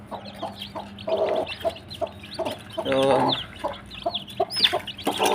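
Hens clucking and chirping around newly hatched chicks, busy overlapping clucks and peeps close by, with one louder burst of cackling midway and a brief word spoken.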